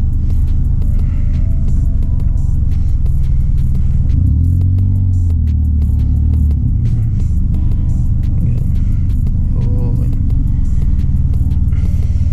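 A car moving through road traffic gives a constant, loud low-pitched rumble of engine and road noise heard from inside, with a brief swelling surge midway and faint higher clicks scattered over it.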